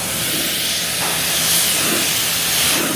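Water is sprayed from a pressure washer over a car to rinse off decontamination product, a loud, continuous close hiss with slight swells in intensity.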